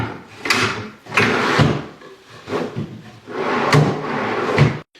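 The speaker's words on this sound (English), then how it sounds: "all I need to do is put the drawer back in" A wooden drawer slides back into a cabinet on newly installed drawer slides, several rolling, thudding pushes and knocks close by in short bursts, ending in a soft bump as it seats.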